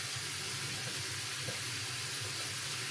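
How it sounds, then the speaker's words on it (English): Tap water runs steadily into a kitchen sink as carrots are rinsed, a continuous broadband rush heard close and alone without voices. "Rinsing off our carrots."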